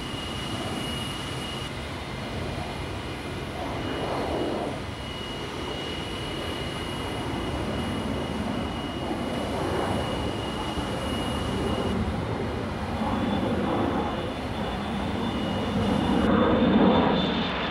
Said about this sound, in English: rotated test air vehicle number one into flight